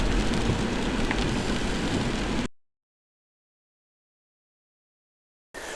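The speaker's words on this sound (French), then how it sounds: "le temps s'est pas amélioré, il pleut à fond" Heavy rain pours steadily outdoors at a garden pond site, a dense hiss that is loud and continuous, then cuts out abruptly into silence before briefly returning at the end.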